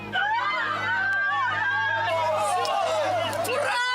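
A dense crowd welcoming returning Ukrainian soldiers produces loud, continuous excited shouting and overlapping voices, with cheering calls rising throughout and some rhythmic clapping near the end.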